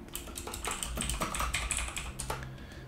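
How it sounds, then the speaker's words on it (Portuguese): Rapid, dense keystrokes on a computer keyboard while a name is entered during Photoshop design work: a close, busy run of clicks with no speech. "Aqui você digita o nome."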